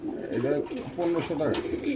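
A teddy pigeon at a pigeon farm gives repeated throaty coos in close, rolling bursts, with a person talking over and between the calls.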